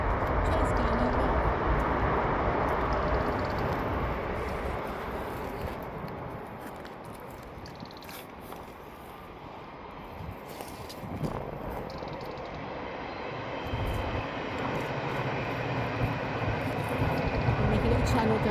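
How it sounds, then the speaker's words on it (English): A train rumbles past overhead at a distance, a broad steady roar that swells, dips, then builds again over most of the clip. "Train's going over."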